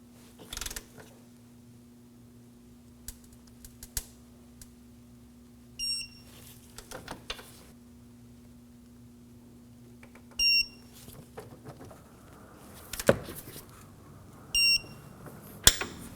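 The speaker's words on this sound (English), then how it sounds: "Now we're ready to torque down the top section of the strut assembly, and we're gonna be using a torque wrench," An electronic torque wrench beeps in short tonal chirps, three separate times, as it tightens the top of a strut assembly to 240 foot-pounds on a 2014-2020 Acura MDX. Soft mechanical clicks and a low steady hum sit between the beeps.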